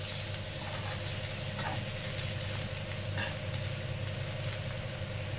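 Egg rice stirred with salt in a hot frying pan, giving a steady low sizzle with soft scraping strokes and a faint continuous hum underneath, no voices.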